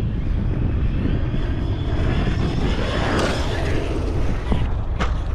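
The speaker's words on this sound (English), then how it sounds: "There's a B-1 bomber coming in right there, coming in for a landing." A B-1 bomber coming in to land near an Air Force base: a loud, sustained roar with a rising whine and a few mechanical creaks in the foreground, and faint talk nearby.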